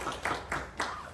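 A small audience claps in a room, three soft bursts spaced evenly, faint and brief.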